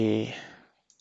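A mouse click on an upload button in a web tool: a voice trails off, then a couple of faint, brief clicks arrive close together near the end after a short quiet gap.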